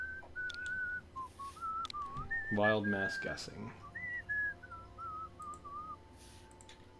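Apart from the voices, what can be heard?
person whistling a song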